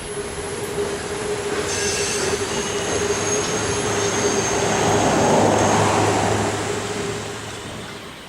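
An HO scale model train rolls into a yard on a Saluda Grade layout, a sustained rumble swelling and fading with a thin, continuous squeal of wheels on rails, close and loud with no talk.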